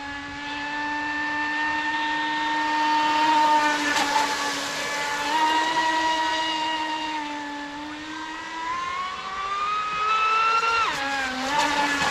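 An Oxidean Dominator RC speedboat with an 8S SMC 5500 motor runs at speed, its high electric whine rising and falling steadily as it passes, fairly loud and continuous with no talking.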